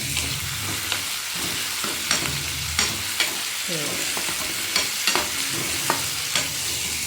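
Tomatoes and onions are stir-fried in a pan for vegetable noodles, with continuous sizzling under repeated spatula scrapes and taps against the metal, close and busy, no talking.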